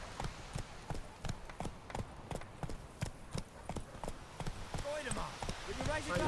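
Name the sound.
horse Roach's hooves clip-clopping, from video game The Witcher 3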